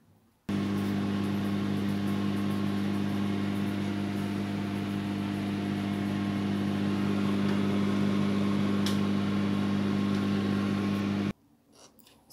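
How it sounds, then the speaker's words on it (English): A microwave oven hums steadily and evenly for about eleven seconds, then cuts off abruptly into near silence. "microwave for 50 seconds or 1 minute or 1 minute 20"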